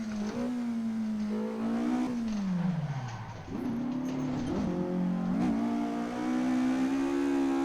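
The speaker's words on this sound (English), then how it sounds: "It's only running about 170 horsepower, this car, so it's not some big wild power machine." A Ford Escort MK2 of about 170 horsepower in the Assetto Corsa racing game, its engine droning steadily and rising through revs, dipping briefly as it shifts, loud and continuous with no talk.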